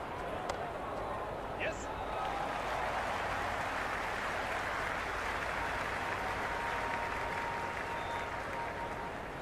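A large cricket crowd at an IPL match cheers and applauds in a dense, sustained roar that fills the whole stretch, with a few whistles rising above it.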